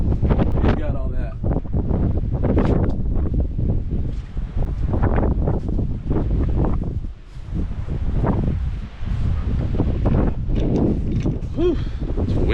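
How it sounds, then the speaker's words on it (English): Strong gusting wind buffets the microphone outdoors at a house being soft washed, producing loud rumbling bursts that rise and fall irregularly throughout, with a voice speaking intermittently underneath. "Whew, it's windy."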